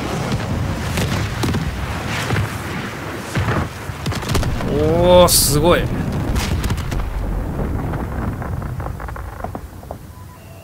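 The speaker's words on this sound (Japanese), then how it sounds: "空爆を要請しろ。" Airstrike explosions in the Call of Duty Modern Warfare campaign: heavy booming blasts and rumbling impacts roll through the scene, with a person exclaiming over them and radio-style game dialogue nearby.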